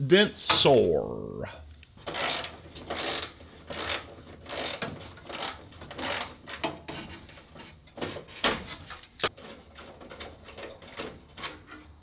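A ratchet wrench backs out the last condenser bolt on a 1977 Ford F-250 Ranger XLT with a 460 engine, giving close, repeated bursts of clicking with short pauses between them.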